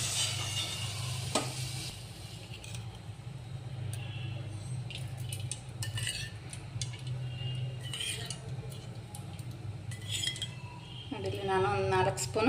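Oil heating in a pan for a toor dal sambar tempering, with a steady low hum beneath scattered metallic clinks of utensils against cookware and faint sizzling near the end.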